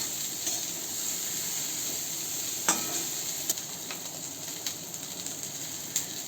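Chopped okra sautéing in a pan over medium gas heat, a steady sizzle with occasional scrapes and knocks as it is stirred, close and continuous without talk.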